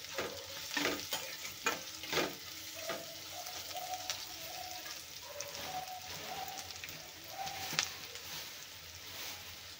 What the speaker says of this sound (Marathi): तेलामध्ये मस्त फ्राय करायचं आहे